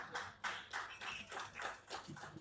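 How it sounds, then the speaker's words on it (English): Sparse, faint applause from an audience at an award presentation during an autism inclusion event in Nigeria, a handful of separate claps in loose rhythm, quiet and somewhat distant. "Please a round of applause for them."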